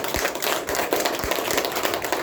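Indoor audience at a senior citizens' brain-health instructor lecture clapping together, a steady dense patter of many hands with a few sharper claps standing out, continuous and fairly close for a couple of seconds.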